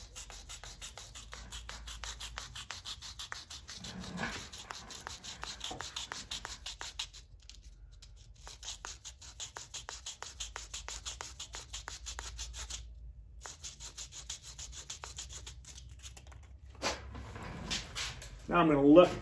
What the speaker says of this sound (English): And I'll continue to sand a little bit to make sure I get everything out of there.